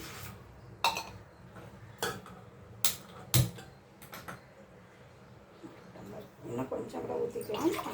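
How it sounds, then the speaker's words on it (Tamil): Water is poured into an aluminium pot in a home kitchen while cooking a drumstick-leaf and peanut curry, with sharp metallic clinks and knocks of the pot early on and a rising splashy pour near the end. "ஒரு ஒன்றரை டம்ளர் தண்ணி ஊற்றிக்கிறேன்"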